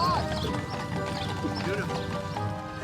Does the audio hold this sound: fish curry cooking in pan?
no